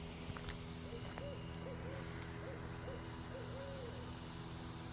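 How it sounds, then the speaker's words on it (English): An owl hoots repeatedly at a distance, soft calls spaced through the clip over a steady low background hum, at night near Lake Tawakoni State Park. "There's an owl out here somewhere."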